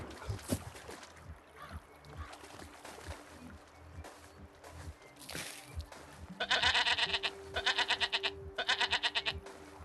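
Sheep bleat in the video game Westland Survival, three loud wavering calls in a row near the end over a low rumbling game background.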